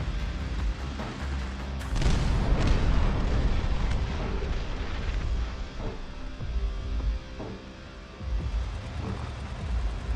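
Howitzer artillery in a video game booms heavily, with a big blast near two seconds followed by rolling rumble and further lower thuds, a loud battlefield barrage that swells and fades over ten seconds.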